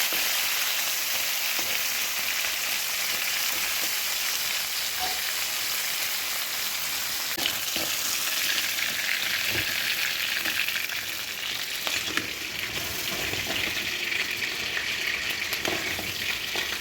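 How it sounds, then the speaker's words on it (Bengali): Food frying in hot oil in a home kitchen: a steady, dense sizzle runs throughout, with occasional crackles and soft stirring knocks, close and fairly loud, with no voices. "এইবার এইগুলো ভেজে নেব।"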